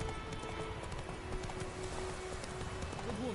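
Rhythmic clip-clop of a galloping horse in The Witcher III, steady and fairly faint, with game sounds and a faint tone running beneath.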